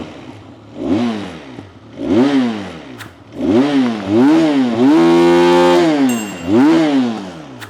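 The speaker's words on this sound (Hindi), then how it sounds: "तो चलो इसका एग्जॉस्ट का साउंड एक बार आप लोग को सुनाता हूं" A Benelli 502C motorcycle engine revs repeatedly on its side stand, each throttle blip rising and falling, with a sustained loud rev near the end; close and loud.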